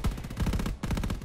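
Turret machine gun firing in Call of Duty WWII multiplayer, two rapid bursts of loud, close automatic shots separated by a brief pause.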